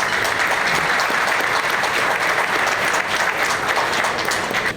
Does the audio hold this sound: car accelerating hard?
no